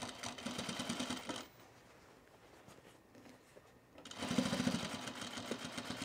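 A sewing machine stitches through thick binding on a baby bag in two loud, rapid, close bursts of mechanical rattling, separated by a quieter pause of a few seconds.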